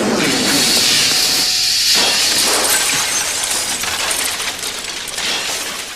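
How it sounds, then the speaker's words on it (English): Plaster dinosaur model head shatters on impact in a movie scene, a loud crash of breaking debris with hissing, crackling bits that scatter and fade over several seconds, with no talk. "It's made of a special type of plaster so that when the head hits, it'll shatter."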